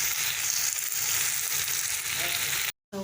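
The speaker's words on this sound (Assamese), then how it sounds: "এতিয়া এইখিনি ভাজি ল'ম ল'টো মিডিয়াম ফ্লেমত ভাজি ল'ম।" Onions frying in oil over a medium flame for a paneer and peas dish, a continuous close sizzle with faint stirring scrapes, cut off by a brief silence near the end.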